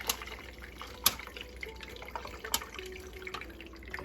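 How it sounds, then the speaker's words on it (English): Pork consommé from resting smoked BBQ ribs is poured off into a gravy separator, a soft trickle of liquid with faint drips and small clinks, fairly quiet. "now we're going to pour off this awesome consomme, pork consomme,"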